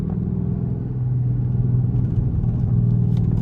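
Inside a Dodge Charger with a loud exhaust driving through evening traffic, a steady, heavy low engine and exhaust rumble drones continuously and loud, with no voices.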